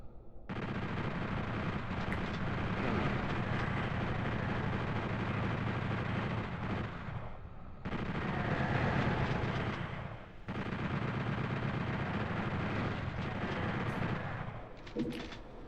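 Sustained loud gunfire and explosions from chaingunners in Final Doom on a PlayStation 1, dense continuous bursts in three long stretches with short breaks, alone without talk.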